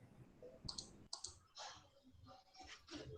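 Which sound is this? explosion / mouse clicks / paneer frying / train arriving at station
mouse clicks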